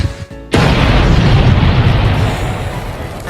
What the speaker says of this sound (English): You're telling me Squidward exploded after falling off his bike?